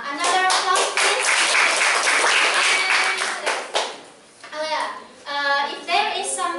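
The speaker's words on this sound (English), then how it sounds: "Another applause, please." Audience applause at a Toastmasters public speaking session in Padang, a dense burst of hand clapping that thins briefly midway, followed by clapping mixed with voices and speech.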